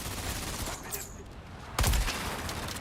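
Gunfire in a video game: a steady wash of distant battle with one sharp, louder shot near the end, heard over a busy game mix.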